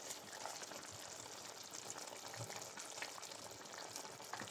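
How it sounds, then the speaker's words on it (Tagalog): Vinegar in a pot of chicken adobo sa gata with carrots and potatoes comes to a boil with a faint, steady bubbling hiss that runs unbroken throughout, quiet and close, with no talking. "Tayo lang natin kumulo ang suka bago natin haluin."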